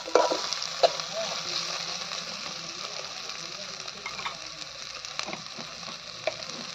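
Small bitter gourd curry fries in a pan with a steady sizzling hiss and a few spatula knocks, staying close and even throughout.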